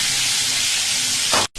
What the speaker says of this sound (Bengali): এবারে মাছগুলো হালকা করে ভাজলাম আমি, ভেজে এবার তুলে নিলাম।